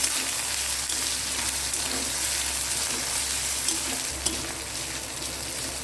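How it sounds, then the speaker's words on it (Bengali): Crushed ginger with garlic and chilli fries in a pan while being stirred, making a steady soft sizzle with occasional faint scrapes of the spoon, close by and fairly quiet. "আদা রসুনটা দু একবার নেড়ে চেড়ে হালকা ভাজা হলো"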